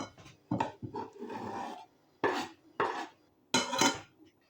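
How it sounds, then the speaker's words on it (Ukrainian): Chopped boiled eggs tipped into a bowl of eggplant for a summer salad, heard as a few soft clattering thuds and scrapes against the dish in separate bursts, close and fairly clear, with no talking. "Висипаємо нарізані яйця в мисочку з баклажанами."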